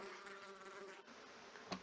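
A housefly buzzes close by in a steady, continuous drone for nearly two seconds, with no talking over it.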